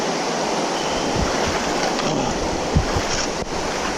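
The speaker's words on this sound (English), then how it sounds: "I really don't know if that was a creek or a crick" Steady rushing creek water fills the scene at a cold, waist-deep wilderness crossing in Idaho's Selway-Bitterroot Wilderness, with faint splashes and occasional wind buffeting the microphone.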